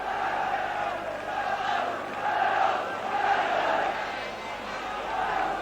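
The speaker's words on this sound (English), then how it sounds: "Not a bad crowd at Tannadice today." Large football crowd at Tannadice stadium during a 1981 Scottish Cup quarter-final between Dundee United and Motherwell, a steady loud roar swelling and easing in waves throughout.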